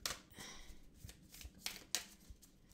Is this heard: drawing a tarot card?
yes